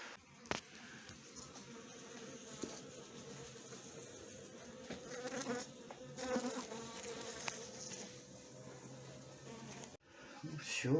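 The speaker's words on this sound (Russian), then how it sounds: "Несколько пчелок еще летает" Bees buzz close by in a steady droning hum, their pitch rising and falling as they fly around, with faint voices and small bumps underneath.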